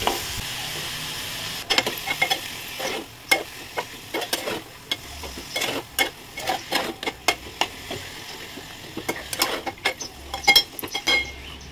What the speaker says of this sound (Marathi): गूळ विरघळेपर्यंत आपण हे असं हलवत राहायचं।